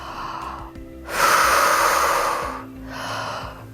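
A person doing deep rib cage breathing during a knee-supported side plank exercise takes one long, loud, close breath followed by a softer one, with no talking.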